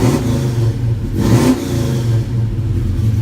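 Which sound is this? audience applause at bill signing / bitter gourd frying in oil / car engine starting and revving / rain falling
car engine starting and revving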